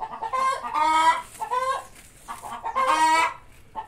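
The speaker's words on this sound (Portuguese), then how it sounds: "as galinhas estão se divertindo" Chickens clucking close by in a backyard during lemon tree pruning, several hens giving repeated short harmonic clucks and squawks in bursts with brief pauses, no voices.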